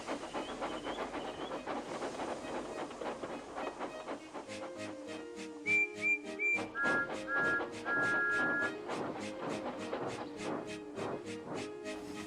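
Steam engines whistle in turn at a busy railway station, short shrill toots and longer blasts layered over rhythmic chuffing and hissing steam, some close and some more distant, with no talking.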